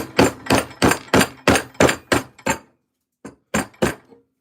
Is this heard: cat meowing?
no